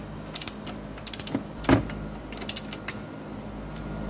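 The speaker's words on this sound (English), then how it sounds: "So I've got the torque wrench here set to 36 foot-pounds." A torque wrench set to 36 foot-pounds ratchets on an outer tie rod end of a 2002 Saturn SL1, giving short runs of close, crisp clicks with a heavier clunk in the middle and brief pauses between.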